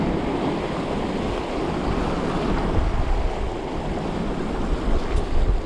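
Strong wind buffets the microphone at the Normandy seashore while surf rolls in nearby, a loud, continuous roar with gusty swells and no speech.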